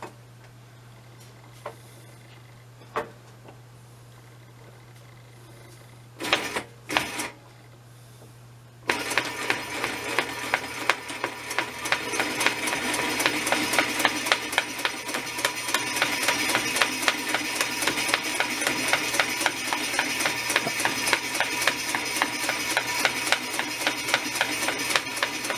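A sewing machine stitches a rucksack, with a few faint clicks and short bursts before it starts running in a steady, rapid mechanical patter that continues close and even to the end.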